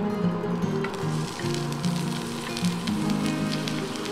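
Scallion whites hit hot oil in a pan for a tomato and egg stir-fry, producing a steady, close crackling sizzle that holds evenly throughout with no talk.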